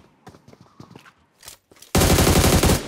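Loud, dense burst of automatic gunfire in PUBG Mobile, erupting suddenly after a stretch of quieter footsteps and movement sounds and holding steady to the end.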